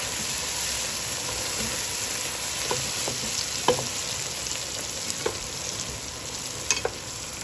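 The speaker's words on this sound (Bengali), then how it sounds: "পাঁচফোড়ন দিয়ে মিক্স করে নিচ্ছি পেঁয়াজটা।" Onions fry in oil with panch phoron, making a constant close sizzle with scattered spatula taps and scrapes as they are stirred, no one talking.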